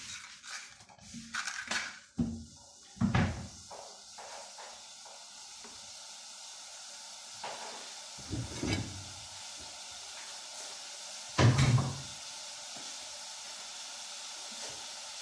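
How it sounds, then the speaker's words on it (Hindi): Sugar syrup coming to a boil in a pan for shakar para, giving a steady soft hiss and bubbling sizzle with occasional louder stirring scrapes and clinks, close and fairly quiet. "ये अब इसमें बॉयल आ रहा है।"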